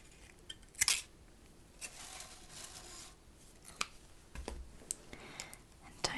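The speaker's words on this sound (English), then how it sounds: "And then we'll snip this end." Scissors snip the end of a wrapped thread with a sharp, close click, followed by smaller ticks and handling noises under soft-spoken talk.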